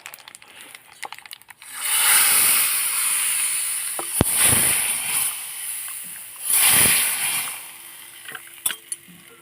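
Hot tempering of oil with fenugreek, mustard seeds and cumin is poured into Kathiyawadi kadhi, giving loud hissing sizzles that rise in several waves, with a few small clinks in between.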